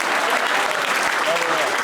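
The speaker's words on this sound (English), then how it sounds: "Louder applause for the young lady." Steady applause from a stand-up comedy audience in Berlin, dense and continuous clapping throughout with no pauses.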